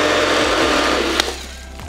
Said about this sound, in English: you can still hear the rock salt swishing around in there.